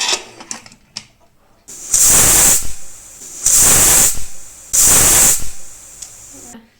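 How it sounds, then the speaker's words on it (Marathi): Three loud, sharp bursts of a pressure cooker whistling and venting steam while cooking daliya kheer, each a hissing blast lasting under a second, after some faint kitchen clatter. "कुकरच्या शिट्ट्या झाल्या आहे"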